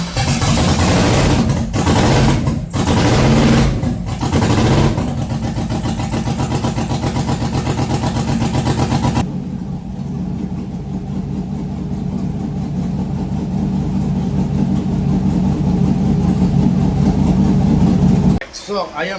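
A V8 car engine, set up for quarter-mile drag racing, runs on all eight cylinders with a steady, loud, close rumbling idle, a few revs early on, and voices talking over it in places.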